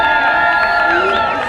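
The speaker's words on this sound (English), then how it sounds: "Give us a cheer." A rally crowd at a Cabrillo College day of action cheers loudly and continuously, with shouts and high whoops rising over a dense wash of voices throughout.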